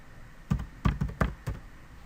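A few light, quick taps on a computer keyboard as a project ID is typed, five soft clicks in an uneven rhythm, close and quiet with a faint background hiss.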